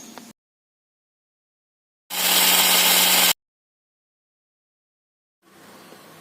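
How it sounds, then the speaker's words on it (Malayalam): A kitchen mixie grinds soaked matta rice in a loud, steady burst of about a second, surrounded by near silence and a fainter grinding start at the end. "വാരി മിക്സിയിൽ അടിച്ചെടുക്കുന്നു."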